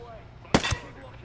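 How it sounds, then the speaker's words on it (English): A single heavy launch from a grenade launcher in Ghost Recon Breakpoint, a sharp close blast followed by a short thump, standing alone against quiet game ambience. "Let's take out the grenade launcher."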